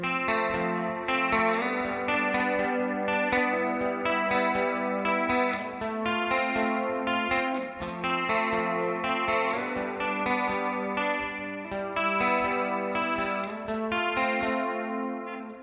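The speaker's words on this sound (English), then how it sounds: "When you put it at the negative side, you get to hear more of the guitar signal than the detuning effect." Electric guitar run through the detune effect of a Valeton GP200 multi-effects unit, giving a shimmering chorus-like doubled tone with slight grit, played as continuous strummed chords and picked notes at steady loudness with no talking.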